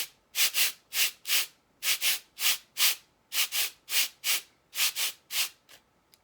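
Two homemade percussion pieces rubbed against each other in a steady rhythm, about fifteen bright, sandy scrapes arriving in pairs and singles, close and crisp with no talking.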